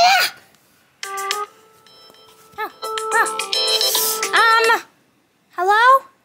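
A string of telephone dialing tones as a call is placed: short beeping key tones in bursts, interrupted by steady held tones, with a child-like voice briefly heard at the end.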